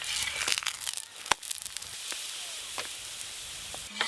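A lachha paratha stuffed with peas fries in a pan with a steady sizzle, broken by crackling and crinkly bursts and a few sharp clicks.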